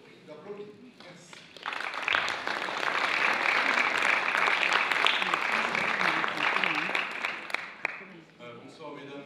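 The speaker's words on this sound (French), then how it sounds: "Je vous prie d'applaudir." Audience applause at a debate evening welcoming an association president, steady full clapping sustained for several seconds after a brief spoken introduction, then tapering off.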